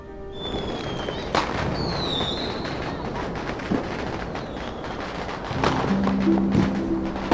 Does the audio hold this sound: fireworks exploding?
yes